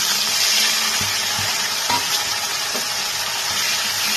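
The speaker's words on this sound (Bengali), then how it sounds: "এবার আমি এর মধ্যে বেটে রাখা মশলাটা দিয়ে দিচ্ছি।" Ground spice paste dropped into fried tempering in hot oil for a cauliflower and potato curry, giving a steady, loud hiss and sizzle with a few soft clunks of stirring.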